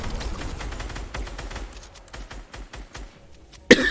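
Rapid bursts of gunfire in a competitive video game match, a dense fusillade of sharp shots that thins into scattered single cracks before a louder final blast, with no one talking.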